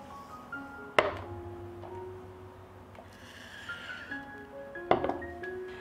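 Glass canning jars lifted out of a pot after three hours of boiling on the stove: two sharp clinking knocks about four seconds apart over a low, steady background hum, fairly close.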